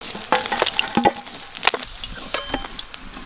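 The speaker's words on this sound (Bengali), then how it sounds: "তাহলে কড়া করে ভাজতে হবে। মাছ ভাজা খেতে গেলে কড়া করে ভাজতে হয়।" Kalbasu fish frying crisply in a hot pan in a home kitchen, a steady crackling sizzle with sharp spattering pops and occasional stirring scrapes, close and moderately loud.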